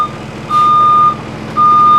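Reversing beeper on a 2025 Thomas C2 school bus: two long, loud steady tones, each lasting over half a second with a pause between, close by with low engine hum underneath.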